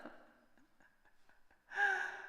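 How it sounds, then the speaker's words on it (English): A person yawning, starting with a drawn-out soft breathy exhale, a few quiet clicks and shuffles, then a louder, strained gasping inhale near the end, close to the microphone. "Oh, big yawn."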